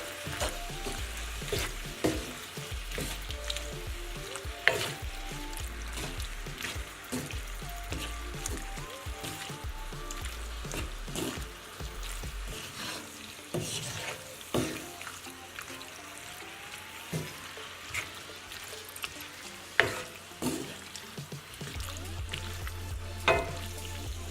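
Red pepper flakes fry in a pan of shrimp and sauce while being stirred, a quiet, ongoing sizzle broken by repeated light scraping and tapping sounds.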